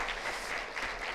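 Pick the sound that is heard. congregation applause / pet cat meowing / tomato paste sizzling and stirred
congregation applause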